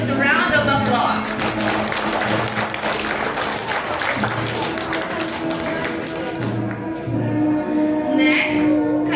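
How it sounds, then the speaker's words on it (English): An audience at a Grade 6 graduation ceremony at Iba Christian Academy applauds a graduating student, a steady wash of clapping with scattered taps running the whole time, mixed with background talk and low hum. "Please join me in giving her a gracious round of applause"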